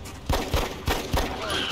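Pistol fire in the strategy video game XCOM Long War: four quick, punchy shots in a short burst over a steady background hum, close and moderately loud.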